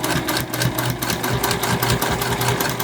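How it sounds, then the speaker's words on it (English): Sewing machine stitching layered fabric and foam for rustic ghost book sleeves at a quarter-inch seam, a close, steady rapid needle chatter with even pulsing rhythm, no voices. "I'm sewing at 1/4 of an inch here"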